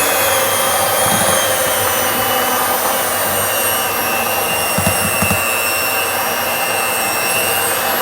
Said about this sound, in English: you can use the hand mixer to mix it around a little